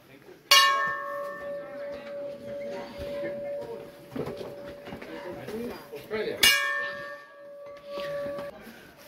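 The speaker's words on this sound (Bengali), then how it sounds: "চলো ঘন্টাটা বাজাও।" A temple bell is rung twice at Gulmarg, each a loud metallic clang with a long sustained ringing tone that decays over several seconds, with people talking and moving around it.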